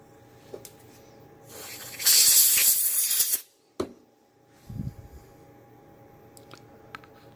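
Compressed air blasting support material off a 3D-printed part: one loud, close hiss lasting about a second and a half, followed by a few softer clicks and short bursts in an otherwise quiet room.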